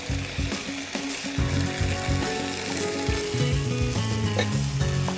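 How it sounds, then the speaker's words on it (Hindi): Blanched vegetables go into a nearly finished curry gravy in a pot, bringing a loud continuous sizzle with repeated scraping and stirring clatter close by, and no one speaking. "इसमें मैं डालती हूँ ये सारे ब्लांच करे हुए वेजिटेबल्स।"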